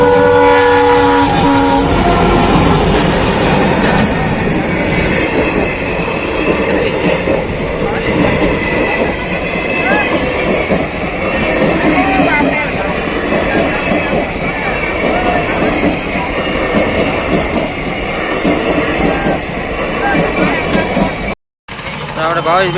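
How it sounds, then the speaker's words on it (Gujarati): A train rumbles past close by on a rail line near Rajula, Gujarat, loud and continuous, with a horn blaring near the start and people talking faintly underneath. "ફાઇનલી રેલ આવી ગઈ છે રેલગાડી આવે"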